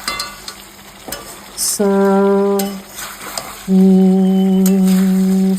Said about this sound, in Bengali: আলুটা দিয়ে দিলাম, আলুটা দিয়ে এবার একটু নাড়িয়ে নিই।